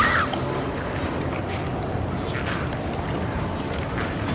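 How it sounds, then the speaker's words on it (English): Wind blows in a steady, broad rushing wash through the foggy town streets of the video game Silent Hill 2 Remake, continuous and fairly loud with no talk over it. "It's getting windy around here."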